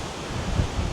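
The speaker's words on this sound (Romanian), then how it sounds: "Da, nici aici n-am scăpat de vânt." Wind gusting across open countryside near Cotswolds villages, a low rumbling buffet on the microphone that swells briefly before easing, steady and close with no voices.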